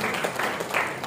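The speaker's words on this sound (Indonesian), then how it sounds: "Kita tepuk tangan dulu, ini luar biasa." An audience at a formal provincial early-childhood education ceremony breaks into brief applause, a short burst of clapping lasting about a second.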